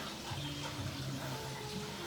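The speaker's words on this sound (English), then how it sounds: "I'm going to pause for a moment and let the water drain down a little bit more." Water draining from a pipe, a low continuous gurgling flow with a steady wash of noise, fairly quiet and without any voices.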